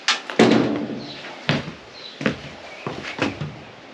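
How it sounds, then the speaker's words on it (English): A door in a hallway under floor repair work is pushed open with a series of loud thumps and knocks, close by, spaced unevenly over several seconds. "Careful, I just had to move the door open."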